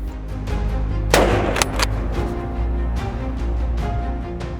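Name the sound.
hunting gunshots at wild boar in Sologne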